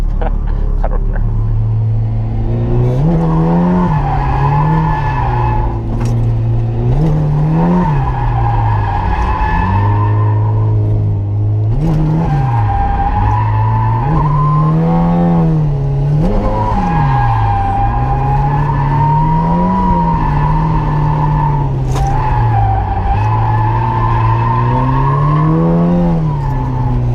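A Ford Ranger track car drifts around a raceway circuit, its engine droning and rising and falling while tires squeal in long wavering screeches, continuous and close throughout.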